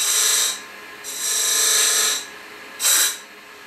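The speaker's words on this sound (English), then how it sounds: "Back to the spindle gouge, because I'm taking less material." A spindle gouge cuts wood on a lathe while a sphere is being turned, producing three close, steady rasping passes separated by short pauses.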